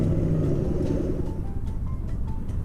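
A 2020 Chevy Camaro SS engine idles with a steady, deep low rumble, close and continuous, with no talk over it.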